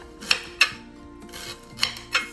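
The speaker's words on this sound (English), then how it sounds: "Garlic and ginger I usually slice. I slice my ginger like this" A knife cuts through fresh ginger on a board in several sharp, crisp strokes with short pauses between them, close and clear, with no talk.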